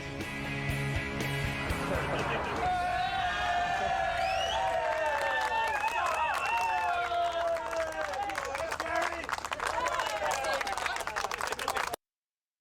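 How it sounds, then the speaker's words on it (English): Onlookers clap and cheer as marchers arrive home at the end of a 500-mile walk, scattered applause building alongside crowd voices and chatter, fairly close and loud until an abrupt cut. "These people are at least just clapping for you"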